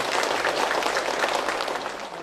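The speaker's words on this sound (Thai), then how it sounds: "ขอเสียงปรบมือดังๆให้ท่านนายกมงคลครับ" Loud, dense applause from a crowd of fishing villagers at a political outdoor event, steady and sustained throughout, then easing slightly at the end.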